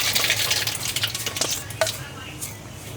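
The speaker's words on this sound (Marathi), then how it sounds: "आता त्याच्यात टाकते राई," Mustard seeds sizzle and crackle in hot oil in a pan while cooking a bitter gourd dish, a loud frying hiss with scattered pops and stirring clatter that fades slightly toward the end.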